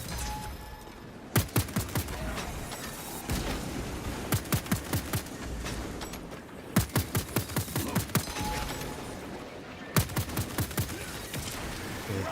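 Gunfire from a Warhammer 40k video game comes in several sharp rapid bursts separated by pauses, loud and close over a low rumbling game background with no talking.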